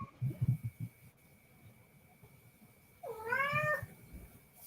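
A cat lets out a single clear, drawn-out meow at close range, rising then falling, after some faint rustling and low household background noise.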